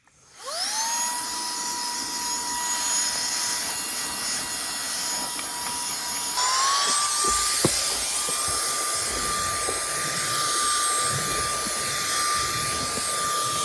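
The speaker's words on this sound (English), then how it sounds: "So that's the vacuum attachment." A portable car vacuum with a nozzle attachment spins up to a loud, steady high-pitched whine, its motor pitch shifting upward partway through as the nozzle engages, running continuously without speech.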